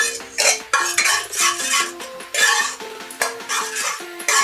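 Cooked mung dal is mashed in a metal pot, producing repeated rhythmic scraping and clinking strokes of a utensil against the pot, close and fairly loud.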